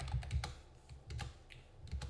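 Computer keyboard typing sounds up close and alone, with irregular clusters of quick clicking keystrokes separated by short pauses.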